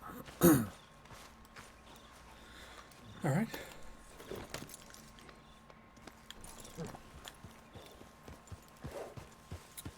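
Horse hooves clip-clop in the Red Dead Redemption 2 video game, a loud pair of strikes followed by softer footfalls and jangling tack, under brief talk.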